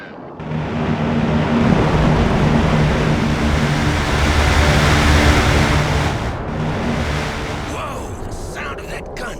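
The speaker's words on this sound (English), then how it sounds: "The sound of that gun always gives me chills." A-10 Warthog cannon firing in the Broken Arrow real-time strategy game: a loud, dense, sustained roaring burst lasting several seconds that fades, followed by a brief voice.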